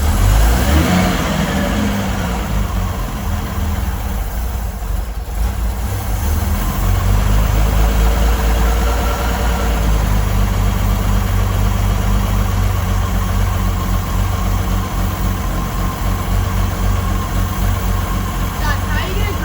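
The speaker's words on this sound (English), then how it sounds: "I just want to see if I can get it idling." A Holden Grey Motor engine, stripped out with no wheels fitted, runs steadily at idle, a loud, rough, continuous rumble with a low throb that carries through the whole stretch without letup.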